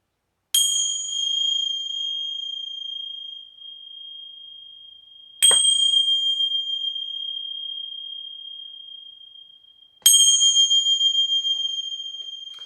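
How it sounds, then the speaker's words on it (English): Three separate strikes of a bright, high bell, each ringing out with a long sustained tone that slowly fades before the next. "Gonna ring some bells here. They may be a little loud."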